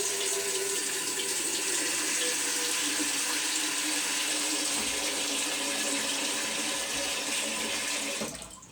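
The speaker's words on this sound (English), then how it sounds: "fill your pan with cold water" Cold water gushes from a kitchen tap into a cooking pan in a steady, loud, broadband rush, then cuts off abruptly near the end.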